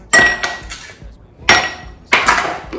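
Three separate bursts of bright clinking and clattering, like ice cubes dropped into a glass, each a short cluster of hard taps with quiet gaps between.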